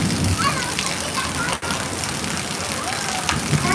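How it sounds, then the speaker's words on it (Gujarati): Heavy rain pours down over Surat, a steady dense hiss of drops drumming on surfaces that holds evenly throughout with only a brief dip midway. "વીજળી સાથે ધોધમાર વરસાદ શરૂ થઈ ગયો છે સુરતમાં"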